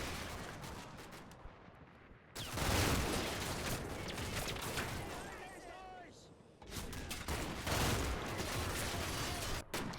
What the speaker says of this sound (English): there is just such heavy American fire coming from the tree line